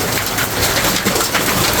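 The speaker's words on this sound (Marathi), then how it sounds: "गारी जबरदस्त पाऊस आला आहे." Heavy rain pours down steadily in a strong wind, a dense, continuous hiss that stays loud and even from start to finish with no voices.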